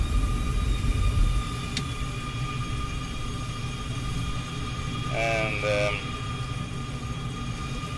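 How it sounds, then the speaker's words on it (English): F-14 Tomcat's number 2 engine spooling up during start in Microsoft Flight Simulator, a steady whining drone with a low rumble, sliding tones rising briefly near the end, a single spoken word early on. "Alright, cranking engine number 2"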